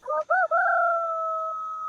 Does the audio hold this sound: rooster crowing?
yes